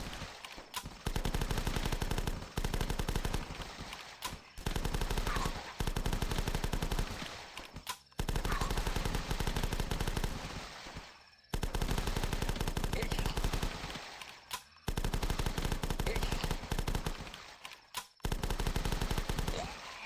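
Rapid gunfire from The Last Stand rattles out in loud, dense bursts as zombies are shot, with bursts separated by brief pauses in the game.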